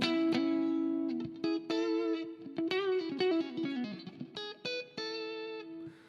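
Clean electric guitar played through a Fractal AM4 Shiver Clean amp model with reverb, ringing single notes and chords picked in a flowing phrase, bright and sustained with a spacious ambient tail.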